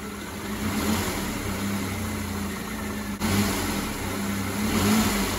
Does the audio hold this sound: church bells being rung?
no